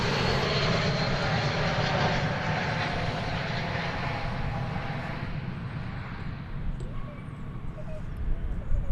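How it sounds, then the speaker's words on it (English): An American Airlines Airbus A321 arrives at DFW airport, its broad jet engine roar loud and steady, slowly easing and growing a little more distant toward the end. "we will zoom out in order to bring you the arrival of Flight 2673 American Airlines"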